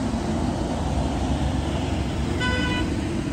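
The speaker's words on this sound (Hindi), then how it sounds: "फुल स्पीड में हॉर्न देते आते हैं।" Road traffic roars steadily in a busy street, and a single vehicle horn sounds briefly near the end over the continuous engine and tyre noise.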